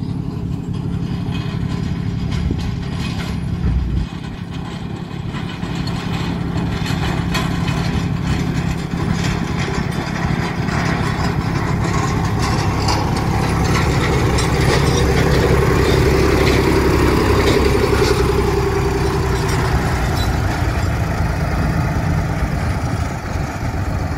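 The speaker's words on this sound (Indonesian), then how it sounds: "Lokomotif D5 sudah semakin dekat. Suaranya sudah terdengar semakin keras." Small D5 sugar cane train locomotive on a shunting track, a steady heavy low engine rumble with mechanical clatter that grows gradually louder as it draws near, continuous throughout.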